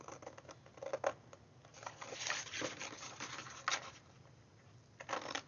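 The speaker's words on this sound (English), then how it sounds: "just using my scissors to do a straight edge on this one." Scissors snip through paper in a quick series of soft, crisp cuts, faint and close, with small rustling between strokes.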